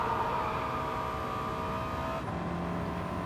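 Shelby GT350R engine in Gran Turismo 7, fitted with an engine swap, running in a continuous steady roar with a slight dip partway through, heard alone without talk.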